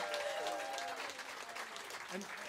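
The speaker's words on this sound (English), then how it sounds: "Give them a really big round of applause, will you?" An audience claps warmly for two guests at a live speaking event, a dense, sustained round of applause that fills the room, with a few voices faintly mixed in.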